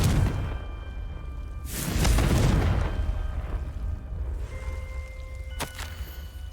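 In the Hogwarts Legacy video game, a Confringo blasting spell sets off a heavy whooshing explosion with a deep rumbling boom that rolls and fades, followed later by a sharp cracking impact.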